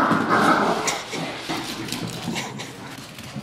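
An excited dog yelps and whines in short, rapid bursts over a busy rustling background, the energy tapering off toward the end.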